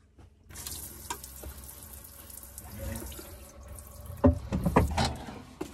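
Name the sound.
water running into sink in Mercedes Sprinter camper van kitchen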